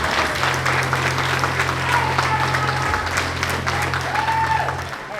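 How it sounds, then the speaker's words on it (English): A crowd breaks into steady applause and some cheering for new first and second degree black belts at a Tristar Martial Arts of Westminster spring black belt promotion. The clapping is dense and continuous, tapering slightly at the end, with a low hum beneath. "let's give one more huge round of applause for all of our brand new first and second degree black"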